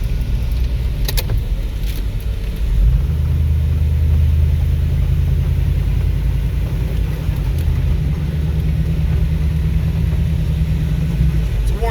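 A vintage International Harvester Scout II drives down a road on a warm day, a steady loud low engine drone with tire and road rumble filling the cabin, no talk.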